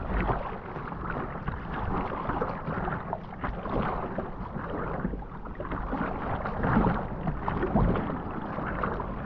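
A surfer paddles a surfboard through the water, producing steady splashing and swishing strokes up close, with a light wash of wind and water in the background.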